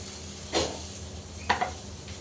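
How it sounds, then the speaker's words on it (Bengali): Onions fry in leftover fish-frying oil with a steady close-up sizzle, broken by a few soft stirring scrapes in the pot. "এখন আর একটু তেল দিয়ে এরপর পেঁয়াজটা আমি ভেজে নেব।"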